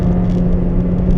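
Opel Astra K with a 1.6-litre turbo engine pulls hard on the Nürburgring, a loud steady in-car engine drone with a strong low hum, brief and continuous without talk.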